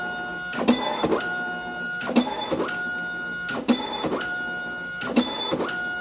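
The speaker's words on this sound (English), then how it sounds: "Oh, now we're printing again." An ImageWriter II dot matrix printer prints in repeated bursts of buzzing, rattling head passes, each roughly a second long with short pauses between, close and clear with no talking.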